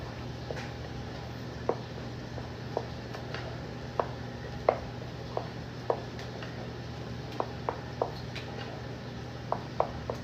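A utensil knocks and scrapes in a pot of grits while lumps are worked out, irregular light taps and clinks spread over several seconds against a steady low hum.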